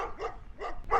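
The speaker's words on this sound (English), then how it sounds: "we got some dogs here that love barking" Big dogs barking, three sharp barks about a third of a second apart, fairly close and loud.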